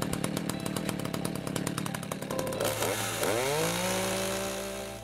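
An ECHO chainsaw engine rattles in rapid pulses, then catches and revs up, settling into a loud, steady whining idle.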